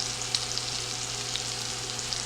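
A steak fries in butter in a hot pan, giving a steady close sizzle with scattered small pops throughout.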